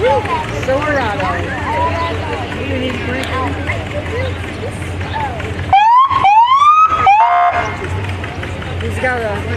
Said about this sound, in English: He's got a siren going in.